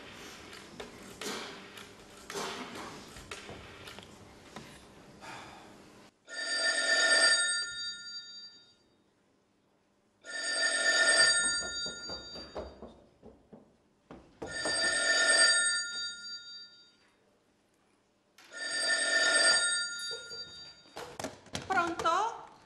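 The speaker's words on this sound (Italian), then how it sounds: "Ora telefono a Patricia" Telephone ringing in four long, loud bursts with silent gaps between them, following a stretch of talking and rustling at the start.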